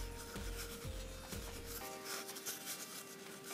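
A black felt marker draws stripes across a cardboard paper roll, making soft, close rubbing strokes with a few distinct scratchy passes that fade into a quiet rustle.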